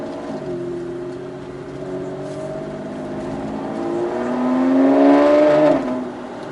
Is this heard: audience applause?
no